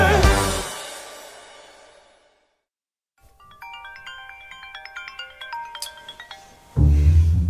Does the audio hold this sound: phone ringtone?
yes